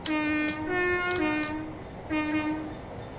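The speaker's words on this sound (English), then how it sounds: "I think the horn is the best noise on this thing." Loud train horn from an LNER Class 801 Azuma in Train Sim World 4, sounding in blasts, a rich multi-tone chord held for a second or so, then repeated after a brief gap, with a low engine hum beneath.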